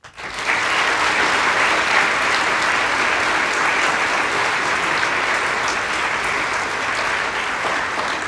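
Loud, dense audience applause at an anti-corruption award ceremony, starting abruptly and holding a steady, full wash of clapping for about eight seconds with no talk over it.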